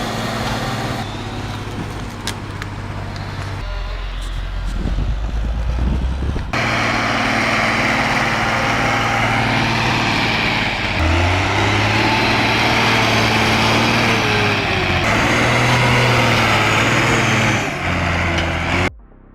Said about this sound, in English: An Ursus 1614 pushed to the edge of its transmission.